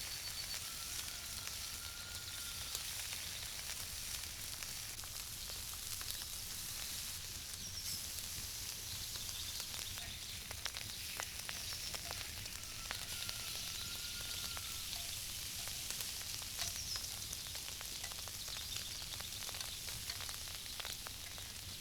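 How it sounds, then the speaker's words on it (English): Pork chops, pork neck slices and bacon cooking, a continuous quiet sizzle with fine crackling pops throughout and no voices. "First, we start by cooking some pork chops, a few slices of pork neck, and some delicious bacon."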